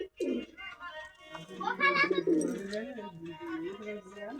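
A pigeon coos close by, a low throaty rolling call running through the middle, with a person's voice heard alongside it.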